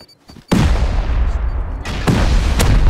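A rocket explosion in the Rust game lands as a sudden loud boom after near silence, followed by a sustained roaring rumble and two more sharp blasts close by.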